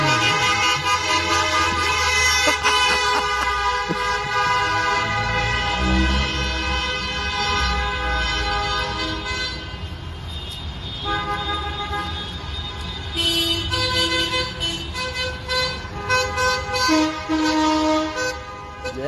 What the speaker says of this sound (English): a convoy of trucks rolling into Ottawa and honking their horns